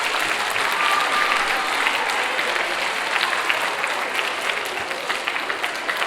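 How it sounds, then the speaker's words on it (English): Students at a Black History Month school assembly applaud steadily for about six seconds, a dense even wash of clapping filling the hall with no break. "I first want y'all to give a round of applause for yourselves"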